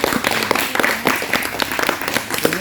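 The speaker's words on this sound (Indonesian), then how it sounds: "Tepuk tangan dulu" An audience at a mangrove environmental education talk in a park applauds, giving a dense, steady wash of many hands clapping throughout the short stretch, fairly loud and close.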